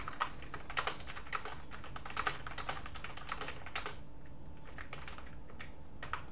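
Quick, irregular clicks of typing on a QWERTZ computer keyboard while using the old Star-Writer 1 word processor, close and fairly quiet, with bursts of keystrokes and brief pauses before the tapping trails off.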